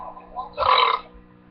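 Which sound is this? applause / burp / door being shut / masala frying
burp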